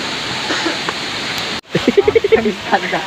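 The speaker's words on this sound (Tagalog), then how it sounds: "nagbugad na sa muya ang napakagandang waterfalls" Palale Falls waterfall in Diaro, Malinao, Albay roars as a steady broadband rush of water, briefly dropping out before returning with people talking over it.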